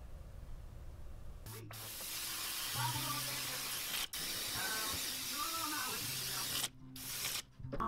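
Continuous hissing from a spray can of silver paint in bursts, broken by brief pauses, with a low hum and faint voice-like murmurs underneath, while painting scales on a bladed wiper crankbait lure.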